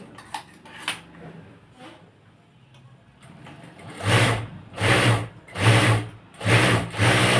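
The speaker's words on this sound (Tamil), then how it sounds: "ரெண்டு சைட்லையும் தையல் போட்டுருங்க" A sewing machine stitches the side seams of a nightie in four quick running bursts with short pauses between them, close and clear, after a stretch of quiet handling noises.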